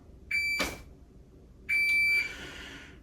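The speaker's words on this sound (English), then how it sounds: "listen for the beep and just clear your cover garment" A shot timer sounds two sharp electronic beeps, each about a third to half a second long and separated by roughly a second of quiet, close and clear over low background noise.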